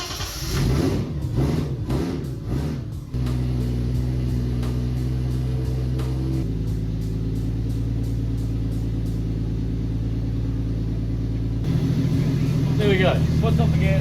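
A C33 engine, just given a richer mixture, cranks and catches, then runs with a steady loud drone that shifts pitch a few times.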